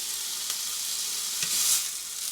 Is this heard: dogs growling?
no